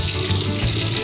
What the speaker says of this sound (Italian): In questo modo avete aperto l'acqua del rubinetto in cucina.